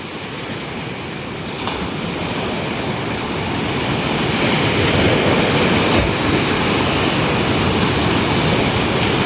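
Loud, continuous roar of ocean waves breaking and washing ashore, swelling slightly over time, with no voices.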